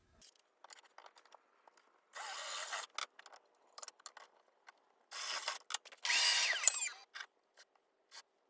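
A drill bores holes in wooden table legs for a railroad-themed coffee table, heard as several short, separate bursts of whirring with quiet handling sounds and pauses between them.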